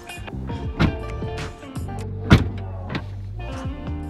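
Motorized falcon-wing doors of a Tesla Model X P100D closing, a whirring electric motor hum with mechanical clicks and two heavier thuds as the doors shut, close by.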